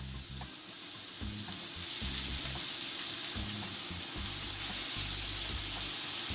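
A whole onion sizzles in extra virgin olive oil in a pan, a loud, steady hiss with occasional clinks and low thumps underneath, close and continuous without talk.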